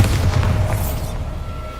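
A Bombarda explosion spell goes off in Hogwarts Legacy: a single heavy, booming blast that rumbles briefly and fades over under two seconds, loud and close, with no talk.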